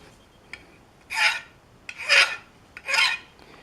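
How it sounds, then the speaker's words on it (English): An aluminum marine clip's ragged edges are worked with a fine metal file: three separate rasping strokes, each about half a second long, close and clear, with quiet pauses and a small tap between them. "So I'm taking a much finer file and just catching those edges."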